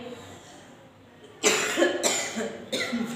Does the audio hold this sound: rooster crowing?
no